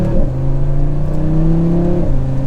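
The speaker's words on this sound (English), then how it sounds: "You can just tell that 5-cylinder is so smooth." A 2024 Audi RS3 (8Y) five-cylinder engine pulls hard in manual mode with a short shift, a loud, smooth, steady engine drone that climbs in pitch, dips briefly at the shift, then carries on strongly inside the car.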